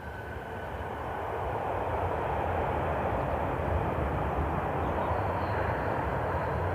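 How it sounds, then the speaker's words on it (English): Aer Lingus Airbus A321neo jet lining up on a runway at Cleveland Hopkins airport, a steady broadband engine roar heard from a distance that swells slightly in the first second, then holds constant with no talk. "Meanwhile, on the other runway, Aer Lingus is lining up."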